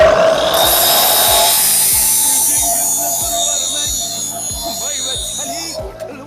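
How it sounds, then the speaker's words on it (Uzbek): An angle grinder fitted with a Tolsen disc grinds along the edge of a stone, giving a loud, steady, high whine with faint rhythmic ticking beneath it. The noise eases slightly toward the end. "Hozir Bolgarka toshni tevasida shilib ko'rsatib beramiz."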